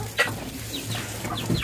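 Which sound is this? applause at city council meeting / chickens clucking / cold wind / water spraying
chickens clucking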